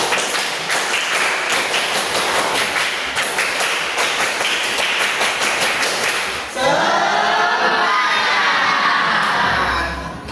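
A classroom of children does a rhythmic clapping cheer, fast sharp claps in a steady pattern, then breaks into loud shouting and cheering together, close and filling the room.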